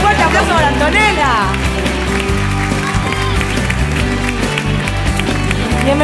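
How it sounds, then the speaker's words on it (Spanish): Studio audience on the Argentine talent show La Voz cheering and clapping for a contestant named Antonella, loud continuous applause and crowd noise with music and a host talking over it. "¡Fuerte aplauso para Antonella!"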